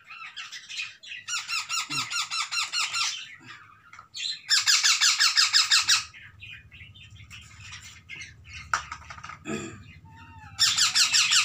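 Indian ringneck parrots give loud, harsh squawking calls in repeated rapid bursts during free-flying training, with short quiet gaps between the outbursts.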